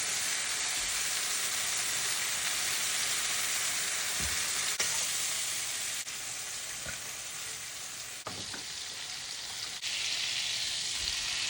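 A ribeye steak sizzles in a pan, a loud, continuous close frying hiss with a few faint clicks and knocks and no talk.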